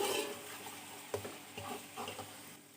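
Beef being browned in a pot with garlic and ginger for pulao, a low sizzle with a few stirring scrapes and soft bumps, quiet and brief with no talking.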